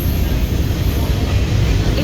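The Doon Express runs on the Howrah to Haridwar route, a loud, continuous low rumble and rattle of carriages heard from inside the train.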